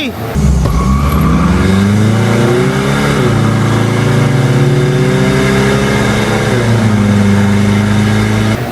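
A diesel drag race car with a 1KD engine launches hard, its engine roaring loud and close and climbing in pitch through the gears, with a voice talking excitedly over it.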